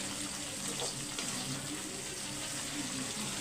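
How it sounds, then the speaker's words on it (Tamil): Bell pepper and chicken fry in oil for chicken gobi manchurian, giving a continuous close sizzle with a faint watery bubbling quality and no clear talking. "அந்த சலசலப்பு இருக்குது பாருங்கள் இந்த சலசலப்பெல்லாம் போகணுன்னா குடமிளகா நல்லா வெந்து வந்துடும் எண்ணெயில்"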